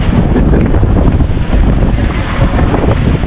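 Strong typhoon wind in Dinahican, Infanta, Quezon roars and buffets the microphone nonstop, a loud low rumble with surf-like swells and no speech.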